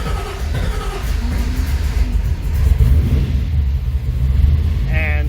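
A 1955 Chevy engine, in neutral and low on fuel, running with a steady close low rumble that holds throughout, with faint voices in the background.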